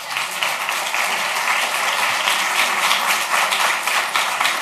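Loud, sustained clapping from a crowd at a Marietta city council meeting, a dense, continuous roar of many hands with sharp individual claps running through it from start to finish.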